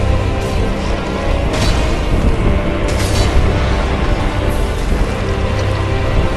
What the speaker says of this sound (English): That's him summoning a weapon